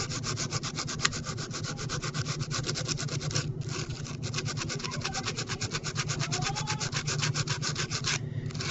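Steady rapid scraping as paint is rubbed off the copper wire coil of a homemade radio, an even rasping rhythm that continues for several seconds, close and fairly quiet, with no talk.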